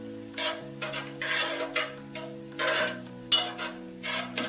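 A metal spoon scraping and clinking around a cooking pot of Weetabix porridge, in bursts of stirring with short pauses, close and fairly loud, over a steady low hum.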